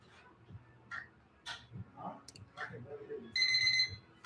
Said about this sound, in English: And that is our timer.